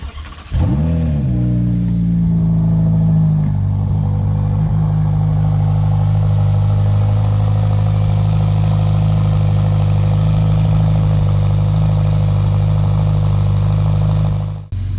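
A Ferrari F8 Spider engine starts with a sharp bark, then settles into a loud, steady, close-up rumble that holds for about fifteen seconds before cutting off.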